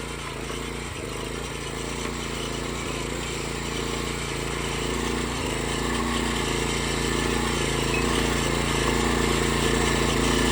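A tiller machine with a powerful Honda engine churns through hard, overgrown jungle ground, its steady loud engine drone running unbroken throughout with occasional low thumps as the blades bite.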